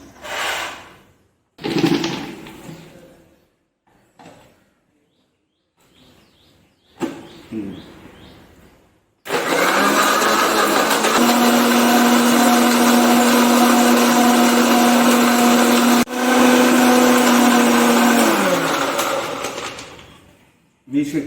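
A mixer grinder whirs loudly and steadily for about ten seconds as it blends a dark chocolate milkshake, the motor pitch dropping as it winds down, after scattered kitchen clatter and brief talk beforehand.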